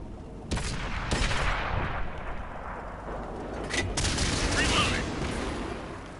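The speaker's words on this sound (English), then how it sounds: "artillery's already firing" Artillery fire in the tank battle video game World of Tanks: heavy booming shots at irregular intervals over a continuous rumbling battle din, with someone talking throughout.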